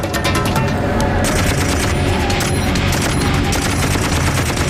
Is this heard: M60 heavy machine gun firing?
yes